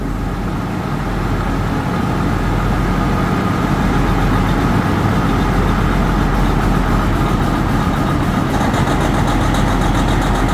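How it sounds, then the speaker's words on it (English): A Detroit diesel engine fitted with a deep reduction starter idles steadily and loudly up close, a dense, even rumble with no pauses and no talking. "This one's got a deep reduction starter in it, so it doesn't crank near as much as the red one."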